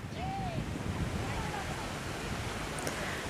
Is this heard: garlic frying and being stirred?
no